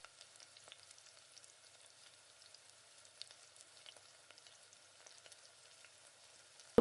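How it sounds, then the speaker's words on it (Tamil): Ghee heats in a pan for sweet pongal, giving a faint, steady fizz of tiny sizzling pops with no voices over it. "இப்போ கொஞ்சமாக நெய் விட்டுட்டு இப்போ நெய் ஊற்றியாச்சு"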